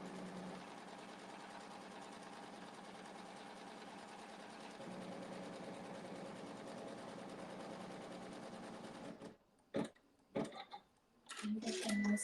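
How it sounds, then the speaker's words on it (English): A sewing machine runs steadily with water soluble thread, stitching around the perimeter of a half square quilt block, a continuous close whirring hum for about nine seconds before it stops. Brief bursts and short stitches follow. "It's going to sew around the perimeter to show us where the block is."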